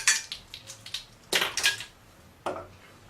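A spoon mixing cookie dough with vanilla extract knocks and scrapes against a bowl in a series of sharp clinks and scuffs, some grouped in quick pairs, with short pauses between.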